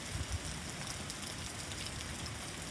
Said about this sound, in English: But look at the rain come down